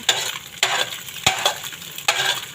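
Garlic sautés in a little oil in a large frying pan, a steady sizzle broken by four sharp scraping strokes of a utensil against the pan, close and distinct, with no talking.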